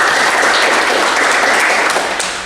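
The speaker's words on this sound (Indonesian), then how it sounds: "Kita berikan aplaus." A classroom of vocational teacher trainees applauds after a group presentation on motorcycle fuel injection, with dense steady clapping from many hands filling the room and fading slightly at the end.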